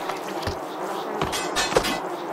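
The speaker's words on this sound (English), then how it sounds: "I don't like the bees." Bees buzzing in the co-op video game Wanba Warriors: a steady insect drone with a few sharp knocks from game action layered over it, no voices.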